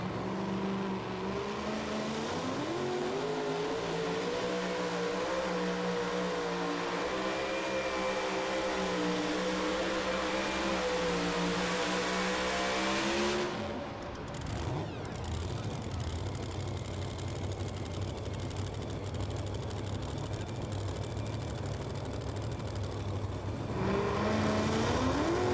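A super modified two-wheel-drive pulling truck engine roars loud and sustained through a pull, its pitch climbing and wavering under load, then dropping abruptly before rising again in a fresh, strained revving surge.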